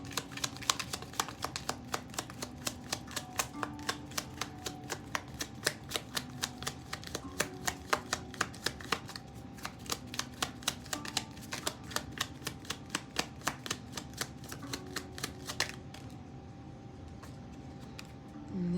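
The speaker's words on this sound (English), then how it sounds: "So I'm pulling 2 cards for the masculine and then 2 cards for the feminine" Oracle cards being shuffled and pulled from a deck, a rapid run of soft, close flicking riffles that carries on for many seconds before stopping abruptly near the end.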